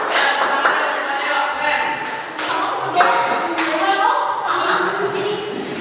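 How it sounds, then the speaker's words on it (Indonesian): Fourth-grade children in a classroom clap their hands together, a loose flurry of close, uneven claps with children's voices chattering underneath. "Ya, tepuk tangan semuanya."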